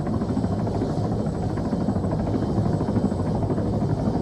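A helicopter in the ArmA 3 video game, a loud, steady, close rotor thump and engine drone that fills the whole stretch without pause or talk.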